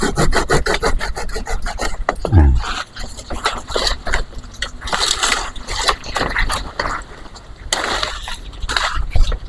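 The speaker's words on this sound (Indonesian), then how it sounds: "akan saya ambil gergaji karena guntingnya tidak mampu lagi" Rhythmic rasping strokes of a handsaw cutting through a coffee tree branch, close by, with someone speaking over parts of it.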